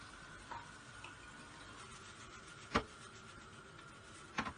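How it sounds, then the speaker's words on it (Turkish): Onions tipped into minced meat that is already browning in a frying pan, giving a soft, steady low sizzle and stirring with a couple of sharp clicks of a utensil against the pan. "kıymalarım renk değiştirince soğanlarımı atıyorum"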